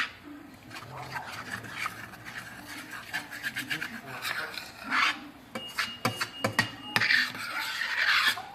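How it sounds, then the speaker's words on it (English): Utensil scraping and clinking against the bottom of a pan while broccoli cheese soup with milk, flour and vegetables simmers, irregular close scrapes and knocks, with faint voices around. "And I'm scraping the bottom of the pan, that way I make sure I get all of the flour mixed in with the milk and the vegetables."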